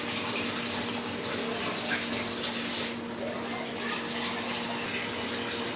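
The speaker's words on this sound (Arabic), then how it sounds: "وهسه حدير المي." Water pouring steadily into a cooking pot of fava bean stew seasoned with Maggi, salt and pepper, a continuous close splashing rush with no pauses and no talk.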